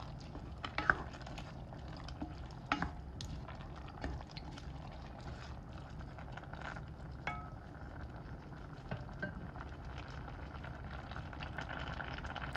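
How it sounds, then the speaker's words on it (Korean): Thawed oysters are stirred into a soup pot of seaweed soup, giving a low, steady bubbling simmer with faint scattered clinks and scrapes of a utensil against the pot, quiet and without talk. "이제 해동한 굴을 넣어줍니다. 잘 섞어주면서 끓여요."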